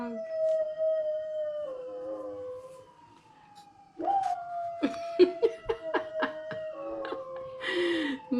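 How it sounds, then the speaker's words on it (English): A dog howls in long wavering tones alongside a wailing emergency siren, the howl dipping and resuming while short sharp yips and bursts break in near the end. "That's our dog. He's singing again."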